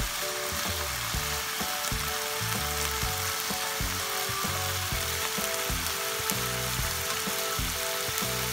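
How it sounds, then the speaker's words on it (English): Bacon fries in a pan, a continuous bright crackling sizzle running throughout, with rhythmic scraping and knocking of a utensil stirring against the pan underneath. "I'm going to start the bacon"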